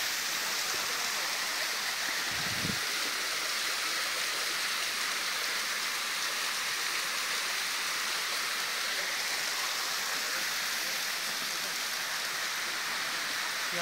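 Rain and rushing water at the Curug Kancil waterfall in Padasuka, Garut make a steady, broad hiss that stays constant throughout, with one brief low thump near the start.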